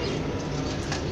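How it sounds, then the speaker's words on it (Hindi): A young Banarasi gagra pigeon coos softly and close by, its low murmur sitting against a steady wash of background noise for about a second. "उसमें से ये पट्ठा कबूतर है अभी ज़ीरो कली का"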